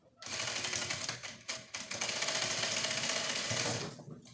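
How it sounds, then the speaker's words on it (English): Sewing machine stitching a busk onto a corset, a close, fast and steady mechanical whirr of rapid needle strokes that runs almost continuously with a couple of brief pauses before stopping. "So we'll be stitching the last part now"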